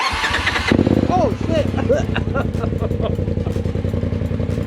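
A Polaris RZR Turbo fitted with a Trinity Racing exhaust cranks and fires up, then settles into a loud, rough, rapidly pulsing idle close by, with a man exclaiming as it starts.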